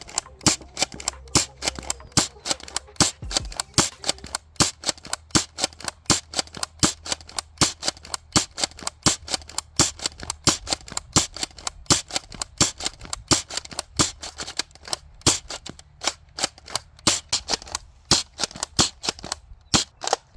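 Rapid, steady series of sharp snapping shots from a 200 fps Nexus Pro X spring airsoft gun, dozens of close, loud cracks in quick succession with no talking.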